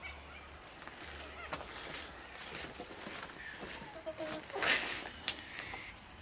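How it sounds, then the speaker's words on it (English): Backyard rescue chickens and a rooster clucking and squawking in short, scattered calls, moderately near, with people talking among them. "This chicken here is Tessie."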